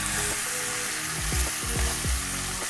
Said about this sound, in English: it's gonna sizzle a little bit